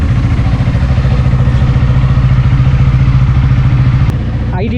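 A KTM Duke 390 idles through its exhaust with a loud, steady, close-up thumping rumble that runs evenly for several seconds before cutting off abruptly near the end.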